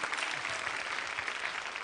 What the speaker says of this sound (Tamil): 2 பேருக்கும் ஒரு கைத்தட்டம்.